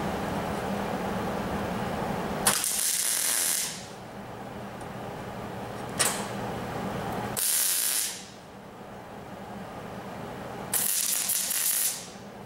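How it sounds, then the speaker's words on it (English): Stitch welding through copper weld-through primer, three short bursts of crackling, sputtering arc hiss separated by quieter gaps, with a faint click between the first two. "Now sometimes it spits and sputters for just a second as it's engaging"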